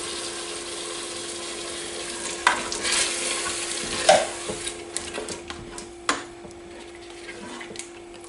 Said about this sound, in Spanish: Vamos a dejar ahí que se sofría 3 o 4 minutitos